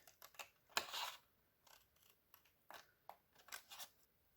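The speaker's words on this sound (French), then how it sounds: "Je coupe le long du pli jusqu'à mon trait et à nouveau sur le trait." Quiet, irregular snips of scissors cutting paper along a fold, a handful of crisp cuts spaced apart with brief pauses.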